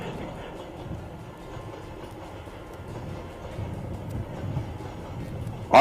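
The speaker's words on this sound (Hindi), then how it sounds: "और देखिए, अब ये गाड़ी जा रही है ना," A train rolling past during an outdoor election rally in Mankapur, Uttar Pradesh, a steady low rumble that swells slightly toward the end, with no clear talk.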